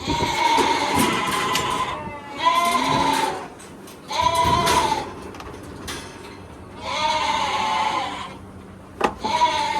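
Ewes in a pen bleat loudly and close by, four long wavering calls spaced a couple of seconds apart, with quieter rustling and shuffling between them.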